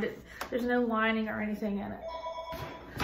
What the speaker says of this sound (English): I am sorry about the phone call.